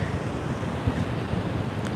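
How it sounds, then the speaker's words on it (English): Steady wind buffets the microphone in a constant low rumble, with a rushing, breezy hiss throughout and no voices. "It wasn't this windy on our way out."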